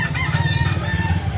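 A White Kelso gamefowl rooster, a derby-quality fighting cock, crows close by in a drawn-out call, with faint background noise and no clear talk over it.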